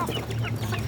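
Hens clucking close by on a small poultry farm, several short soft clucks overlapping in an irregular rhythm against a low steady hum.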